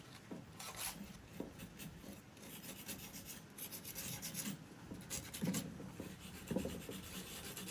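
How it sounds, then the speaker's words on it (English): Light hand sanding with 220 grit sandpaper on a painted rusty old lantern, quiet rasping strokes in an irregular back-and-forth rhythm, close and soft with no talking. "Going back through with some 220 grit sandpaper"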